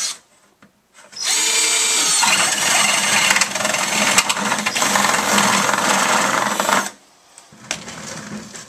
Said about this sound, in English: And I'll drill another one right there, right across from that one.